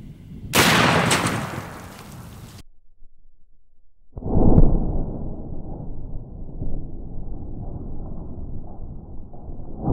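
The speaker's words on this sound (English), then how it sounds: "So let's take the shot." A shotgun firing sphericon slugs outdoors, one heavy blast with a long rumbling decay, then a second loud boom or impact rolling on as a low drawn-out roar.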